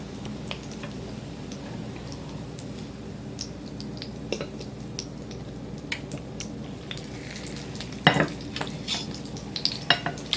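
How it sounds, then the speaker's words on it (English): Fish patty frying in a pan with a soft steady sizzle, scraped and nudged around by a utensil, with scattered clinks and a louder cluster of pan scrapes near the end. "you can push this around in the pan and it's holding its shape"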